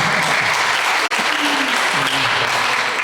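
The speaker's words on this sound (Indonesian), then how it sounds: "Kita juga kasih aplaus dong buat mereka." Sustained, loud applause from a crowd of church guests at a prayer fellowship gathering in Banyumas, continuous with one brief drop, and a faint voice underneath.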